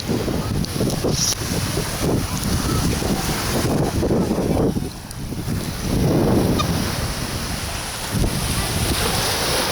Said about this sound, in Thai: มีทราย เสียงคลื่นสัสๆนะครับผม